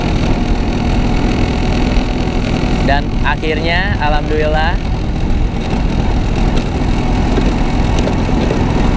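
A Vespa scooter engine idles with a steady, close rumble throughout, while someone speaks briefly over it partway through.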